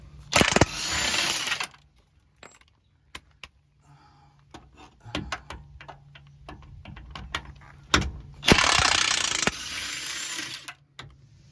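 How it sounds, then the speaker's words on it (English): Milwaukee ratchet spinning off two 19 mm control arm bolts on a Honda Pilot front suspension, two loud broadband bursts of rapid mechanical whirring separated by quieter clicks and clanks of tools, no talking. "there's two 19 millimeter bolts right underneath this, so we're gonna take those off"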